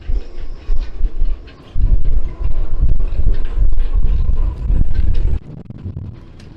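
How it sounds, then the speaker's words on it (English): Strong wind buffeting a sailboat tied up at the dock in winter, roaring in loud gusts that rise and fall against the microphone. "But hopefully this wind kind of settles down before then."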